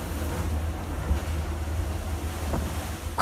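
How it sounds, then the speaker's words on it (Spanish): Fishing boats ride out a storm at sea, with a steady roar of wind and surging waves throughout and a few brief louder gusts or knocks, no voices. "Mira cómo se mueven los barcos pesqueros durante una tormenta."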